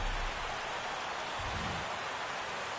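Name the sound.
rain falling in video game MLB The Show 17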